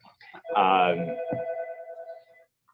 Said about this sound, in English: for some reason the phone is ringing at a place that's closed